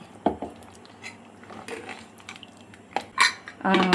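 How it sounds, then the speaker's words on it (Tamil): A pressure cooker lid is set down and closed over a masala mixture, giving several close metallic clanks and clinks with a rattling burst at the end. "நம்ம குக்கர் லிட்டை வந்து மூடி விட்டுறலாம்"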